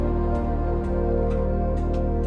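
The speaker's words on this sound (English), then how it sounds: "Here's the bass and the organ." Bass and organ parts of a studio song mix playing together, a dense sustained organ chord over a steady low bass line with faint rhythmic accents.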